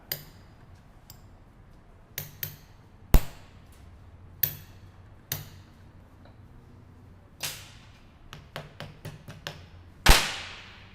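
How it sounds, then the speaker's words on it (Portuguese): A small hammer drives a pin punch to knock out the lock on a sector and worm steering box, giving sharp metallic strikes, some single and some in quick clusters, against a quiet background. "Então eu vou pegar um martelinho aí, né? Pegar um sacapina aqui, que aqui vai dar pra gente, né, fazer. Vou retirar aí a trava."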